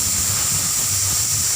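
Steam hisses steadily from a pressure cooker whistle while rice is cooked on a gas stove, a loud continuous rush with a low rumble underneath and no talking.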